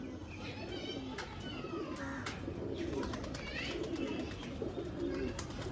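Pigeons cooing close by in a loft, with soft repeated throaty coos and faint chirps over a quiet, low background.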